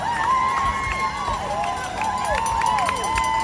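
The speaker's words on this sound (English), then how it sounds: "Thousands and thousands and thousands of people are out cheering on all the runners." Spectators line the NYC Marathon course near mile 18 in Harlem, cheering runners with a steady loud crowd roar, whistles and scattered shouts, close by and continuous.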